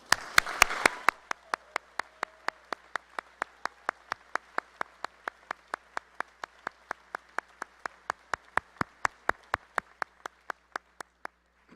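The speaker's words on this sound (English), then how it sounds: "I ask you to applaud the people of North Carolina." Applause at a university commencement: a short burst of clapping from the audience, then a steady run of single, evenly spaced claps, about four each second, continuing on its own until the end.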